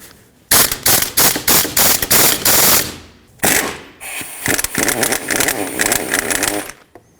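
A socket wrench on extensions breaks a front engine mount bolt free on a 2012-2017 Toyota Camry 2.5L, giving loud, close rapid ratcheting clicks in several bursts with brief pauses between them.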